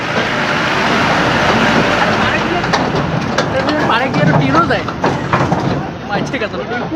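A train passes through the Malbazar park area in India, a steady loud rumble with faint rhythmic clatter building through the clip, while people talk over it.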